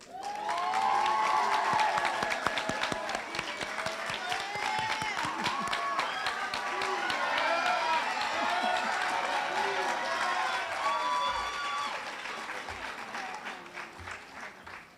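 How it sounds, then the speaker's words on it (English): Sustained applause and cheering from an audience at an awards and induction ceremony for a scholarship winner, dense clapping holding steady throughout with some voices mixed in. "Let's give Zach another round of applause."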